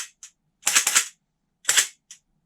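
A Cyma MP443 Grach electric blowback airsoft pistol fires sharp, snappy shots, first a quick burst of several close together, then a pause and a couple more, loud and close with silence between.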